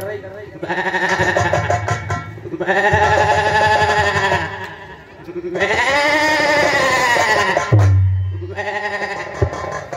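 A voice imitates a goat bleating in long, wavering, nasal cries, four loud sustained bursts with brief gaps, close and dominant.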